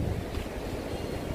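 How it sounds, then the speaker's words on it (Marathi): Sea waves at high tide at the Harihareshwar coast make a brief, close rumble mixed with wind buffeting the microphone. "मस्त लाटांचा आवाज येतोय."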